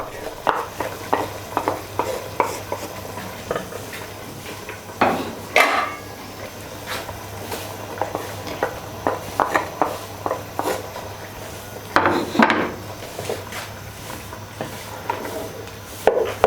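A spoon stirs softened vegetables with curry in a cooking pot, giving repeated scraping and clinking strokes in an uneven rhythm over a low background sizzle. The sounds are close and there is no talk.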